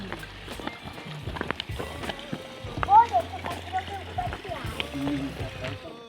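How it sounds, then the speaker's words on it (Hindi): Spring water running over and under stones on a mountain trail near Abbottabad, a continuous splashing trickle close by with footsteps and scattered movement noises on top. "ये देखिए सब चश्मे का पानी है।"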